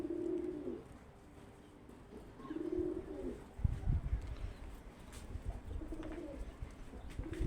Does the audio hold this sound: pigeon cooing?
yes